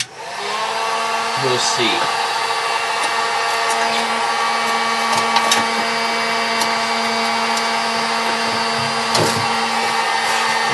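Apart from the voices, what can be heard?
power sander sanding paint off a car panel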